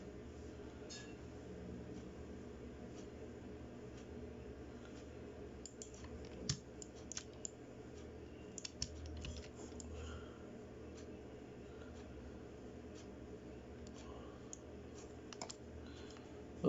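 Keys tapped on a computer keyboard while modelling a chair in Blender: faint, irregular clicks, some in quick clusters, scattered over a low, quiet room background.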